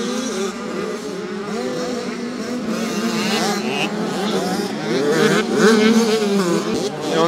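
Motocross bikes racing at a junior world championship round in Romagné, France, engines buzzing and whining continuously at moderate distance, rising in pitch and swelling louder toward the end as riders pass.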